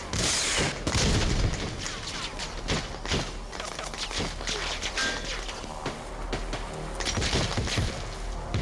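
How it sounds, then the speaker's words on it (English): Scattered grenade blasts and gunfire in a Battlefront video game's desert battle, with repeated thumps and booms at varying distances, fairly quiet overall, with a commentator talking over them. "Nades coming here, there, and everywhere."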